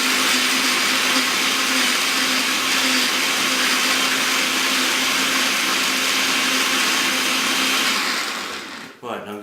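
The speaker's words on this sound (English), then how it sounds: "in my kind of mixer will help all the other stuff to get caught and ground up really good" A kitchen blender runs loud and steady, blending a banana smoothie with greens, a continuous high-pitched whir that holds for about nine seconds before cutting off abruptly near the end.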